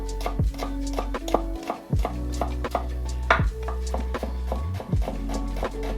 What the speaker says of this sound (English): Take your onion and just thinly slice it.